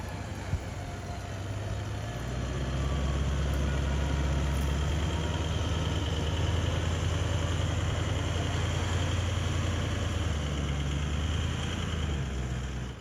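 A 4x4 car's engine idles steadily after a winch recovery on a hillside track, a loud continuous low rumble that holds throughout, with no talk.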